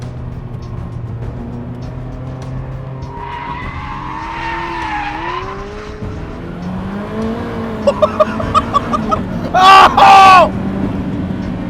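A Ferrari F40 with 480 horsepower pulls hard under turbo boost, engine note climbing through revs with rapid sharp pops, while a man exclaims over it.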